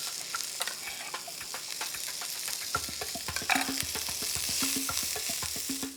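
Spring onion and Szechuan peppercorns fry in a pan with a continuous close hissing sizzle and frequent scraping stirs, with no talking.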